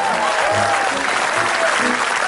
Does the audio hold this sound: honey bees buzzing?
no